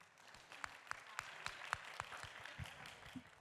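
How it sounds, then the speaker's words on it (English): Workshop participants at a medical improvisation session in emergency medicine clapping together, a faint, distant round of applause with a few sharper individual claps standing out. "let's give ourselves a round of applause"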